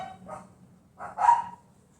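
Dogs barking from somewhere in a front garden, two short, fairly faint barks with a pause between them, heard alone with no talk.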